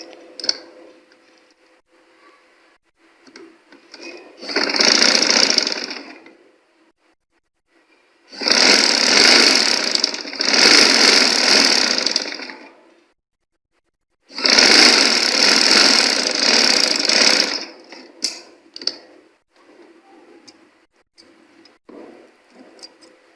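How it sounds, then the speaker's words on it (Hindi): A sewing machine stitches a sleeve in three loud, rapid mechanical runs of a few seconds each, separated by quiet pauses with faint handling clicks, close by and without talking. "इसी तरीके से हम आस्तीन की सिलाई लगाएंगे।"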